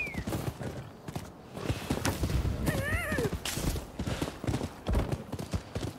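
Rapid hoofbeats clatter in a steady rhythm as a horse gallops in the video game Rise of the Ronin, with a brief whinny rising midway over game ambience.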